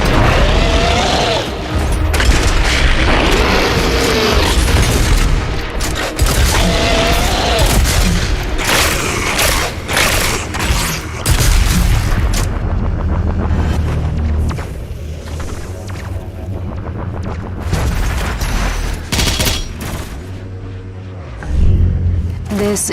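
Turret fire in Doom Eternal clearing a path: dense, loud bursts of heavy gunfire and booms pound almost continuously over a thick game soundtrack, with voices speaking intermittently through the mix.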